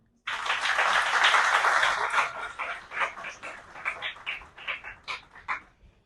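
An audience at a talk on organic farming applauds collaborators, a burst of clapping that starts abruptly, swells for a couple of seconds, then breaks into scattered, thinning claps with a few sharp individual hand strikes near the end.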